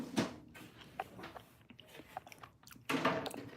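Someone takes small bites of food and chews close up: crisp bite crunches at the start and end, with softer, irregular chewing sounds in between.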